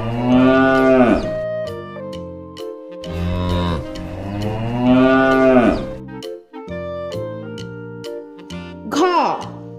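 Cow and calf on a farm lowing in long drawn, bending moos, two big calls followed by shorter ones, loud and close over a steady tonal musical backing.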